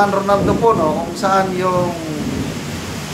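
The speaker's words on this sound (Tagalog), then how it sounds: "malakas ang ulan dito sa akin, may dalugdog" Heavy rain with thunder, heard as a steady, loud wash of noise beneath someone speaking throughout.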